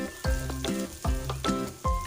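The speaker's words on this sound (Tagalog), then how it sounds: "So, igisa muna natin yung mga spices. Una is yung onion, garlic." Onion and garlic sauté in butter in a pan, with close sizzling and frying in repeated bursts as they are stirred, for a tuna and chayote dish.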